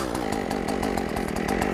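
A petrol chainsaw runs steadily after starting up, its engine buzzing loud and close throughout with a rapid, even throb and no voices.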